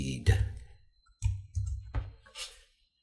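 A computer mouse clicks several times in a quick irregular sequence, each a sharp, close, low thump with a brief tick, during editing in a quiet room.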